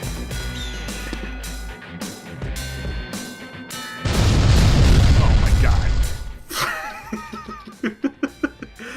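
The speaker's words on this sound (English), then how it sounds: "Our dude seemed disgusted by that explosion." An explosion in the video game Fugitive Hunter: War on Terror: a loud, broad rumbling blast lasting a couple of seconds in the middle, surrounded by busy game sounds and a run of short pops at the end.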